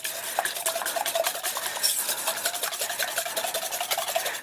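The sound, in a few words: whisking eggs with vanilla in a bowl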